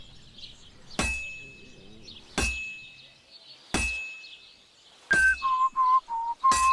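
In the video game Kingdom Come Deliverance 2, four evenly spaced metallic hammer clangs ring out while forging a workpiece, followed by a short whistled tune of a few notes near the end.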